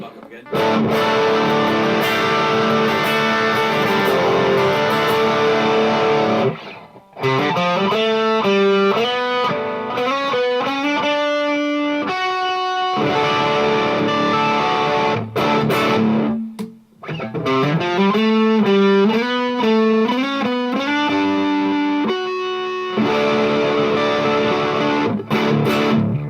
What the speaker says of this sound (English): Amp distortion, bridge humbucker again.